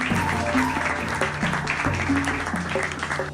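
Villagers clap together at a village gathering where a sarpanch addresses them, a steady ripple of applause lasting the whole moment, mixed with tonal background sounds.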